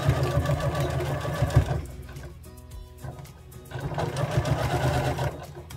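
A sewing machine stitches the gathered skirt onto the band of a dress, its steady motor hum running in close bursts with a brief pause in the middle before it picks up again.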